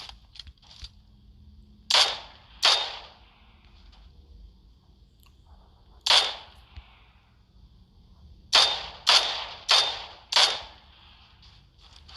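Gunfire in the video game PUBG: spaced single sharp shots, first a pair, then one, then a quick run of four, loud against a quiet background.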